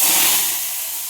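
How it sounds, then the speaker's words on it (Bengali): Cauliflower florets sizzle in hot oil in a wok, a loud, steady broadband hiss that continues unbroken and eases slightly toward the end, with no talk over it. "এটা আমি ভাজতে দিয়ে হালকা ভেজে নেব।"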